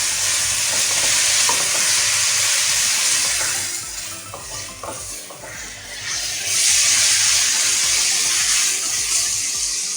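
Vegetables seasoned with white and black pepper and soy sauce are tossed and stirred in a hot pan, a loud continuous sizzle with scraping and clattering that briefly eases midway before surging again.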